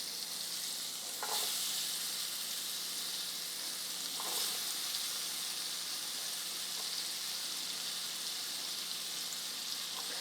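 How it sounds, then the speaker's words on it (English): Chopped red onions sauté in a hot pan for an Indian dish, giving a steady, close, even sizzle with a couple of soft stirring scrapes and no talking. "We've got our beautiful chopped up red onions. Let's go ahead and get those in there so they can start sauteing."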